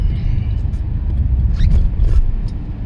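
Engine of a newly acquired used car idling, a loud, steady low rumble with faint voices or brief noises over it.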